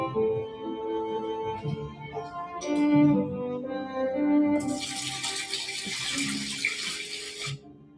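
Melted ice water is poured for a newborn baby's bath in a winter home in Yakutia, a steady hissing splash of water that starts midway and runs for several seconds at moderate volume.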